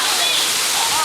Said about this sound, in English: he's going to go under the waterfall, which is right there